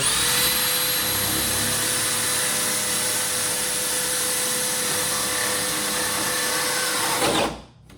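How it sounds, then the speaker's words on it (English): A power drill runs continuously at high speed, whining and grinding steadily while boring a hole in a door for a door knob, before abruptly winding down and stopping. "Get your drill going before you get to the door."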